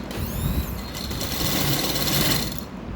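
A sewing machine runs steadily, stitching lace and ribbon trim onto a dupatta, with a fast, even mechanical whir that holds close and loud for the whole stretch before easing off at the end.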